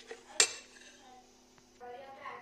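A spoon clinks and scrapes against a bowl while moong dal dosa batter with baking soda is stirred, one sharp clink near the start and then softer scraping, close up and quiet with no talk.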